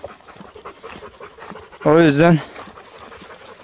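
Dogs panting heavily in the heat, a brief burst of loud, rapid breathing close by, with someone talking before and after.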